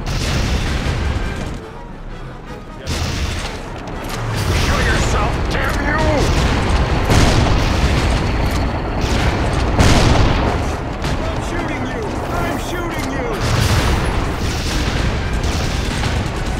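Gunfire and explosions in the Family Guy: Back to the Multiverse video game keep up a dense, loud barrage of booms and shots. Voices talk over the din throughout.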